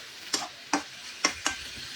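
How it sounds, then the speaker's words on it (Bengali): Mutton pieces frying in a pan under a low sizzle, with four distinct spatula scrapes or knocks spaced about half a second apart, close and moderately loud. "মাংসটাকে ফেলে দিলাম। এখন উল্টিয়ে পাল্টে নাড়ায় চাড়ায় নিব।"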